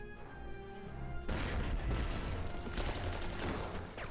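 Wurfrahmen rocket launcher artillery salvo in the wartime strategy game Panzer Corps 2, a sudden loud booming barrage that breaks in over quiet background music and keeps rumbling and crackling with repeated blasts.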